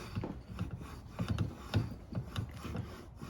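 An engine crankshaft taper being lapped by hand, spun back and forth under downward pressure, giving a faint, close, rhythmic gritty scraping and grinding with no talking.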